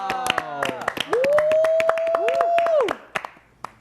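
Live audience applause and scattered clapping for a K-pop band at a comeback showcase, sharp hand claps throughout with a sustained high whoop or scream riding over the middle, fading to a few isolated claps at the end.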